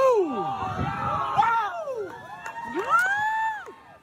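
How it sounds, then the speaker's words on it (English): A crowd screams, whoops and hollers as a balloon is shot down, the cheering loud and sustained with overlapping rising and falling shouts across the whole stretch. "you can hear them screaming and hollering."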